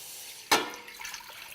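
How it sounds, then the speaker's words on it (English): Chicken broth made from stock cubes and water is poured into a pot on the stove, a sudden splash followed by a short, soft trickle. "So now I'm gonna go ahead and add some broth."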